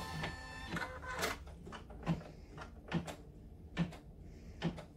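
An embroidery machine sews an edge stitch on vinyl in a hoop, with a quiet, rhythmic mechanical whir and regular soft thumps spaced a bit under a second apart.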